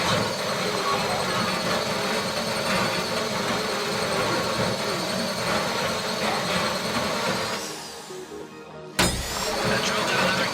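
A heist drill in GTA 5 grinds steadily and loudly, a dense mechanical whine over layered game noise, briefly dropping out near the end before resuming.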